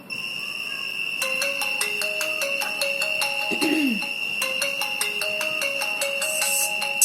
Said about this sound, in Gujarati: જેવું મોબાઈલમાં રિંગ આવે છે